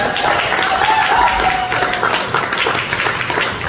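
Applause and cheering from an audience at a comedy show for the host Meg, a steady dense wash of clapping throughout with crowd noise mixed in.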